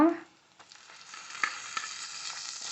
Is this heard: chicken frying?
yes